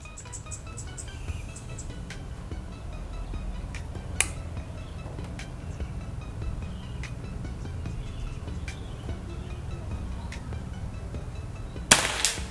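One sharp, short crack from a Predator OD 38 Monolite PCP air rifle during an outdoor long-range accuracy test, loud and sudden near the end after a long stretch of quiet background hum with faint ticks.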